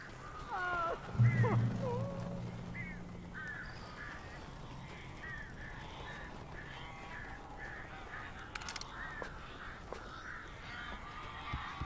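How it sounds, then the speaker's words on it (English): Birds in the Alan Wake video game give harsh, honking caws and calls, loudest and most frequent early on and then scattered more faintly over a low background rumble. "These birds are weird"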